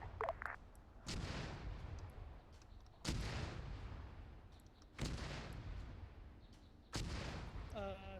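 Four heavy artillery shell impacts in the video game Arma 3, each a sudden loud boom with a long rumbling decay, spaced about two seconds apart, with faint radio chatter between them.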